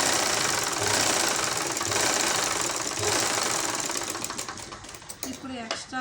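Sewing machine stitching a blouse hook strip, a steady loud mechanical whir that runs continuously, then slows into short bursts and stops near the end.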